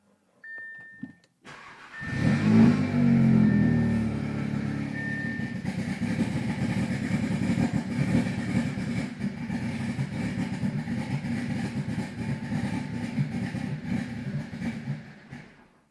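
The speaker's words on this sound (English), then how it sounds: "we're gonna start the car and let the car die" Audi S3 engine cranked and started during a fuel pump install, catching with a loud rise, then settling into a rough, uneven idle that runs on steadily before cutting out at the end.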